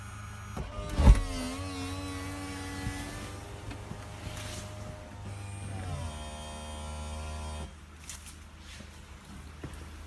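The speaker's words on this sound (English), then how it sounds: "And then a down motion as well." Electric roof motor on a BMW Z4 E85 convertible lowering the folding roof, a steady mechanical whirring hum with a clunk near the start and a shift in pitch partway through as the mechanism travels, fairly close and continuous.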